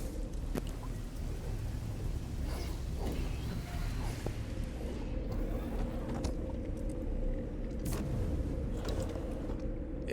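A steady rushing storm wash of rain and wind in the video game No Man's Sky, with occasional sharp crackles and low rumbles, fairly quiet and continuous throughout.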